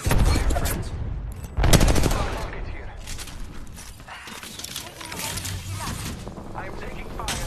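Apex Legends gunfire erupts in dense bursts and rattling volleys over constant game sound, with a sharp loud spike near the start and mechanical clicks between shots.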